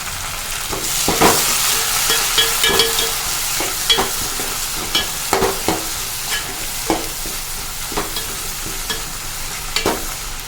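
Garlic and tomato sauté in a hot pan, giving a loud, continuous sizzle broken by frequent close stirring scrapes and taps against the pan, with no voices.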